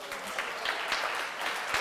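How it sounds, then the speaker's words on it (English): An audience at a technical conference talk on a Spark library claps steadily for the maintainers, a dense, even wash of many hands lasting the whole stretch at moderate loudness with no voices. "please cl clap for the maintainers"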